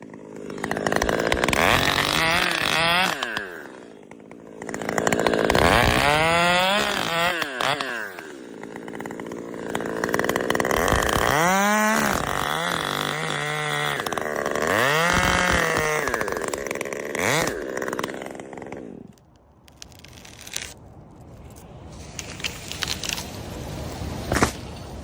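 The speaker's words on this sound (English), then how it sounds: "The sharp chainsaw screams to life, biting deep into the tree trunk like a blade tearing through old timber." A chainsaw roars and revs repeatedly while cutting a tree trunk, its pitch rising and falling, loud and close, before dropping to an idle.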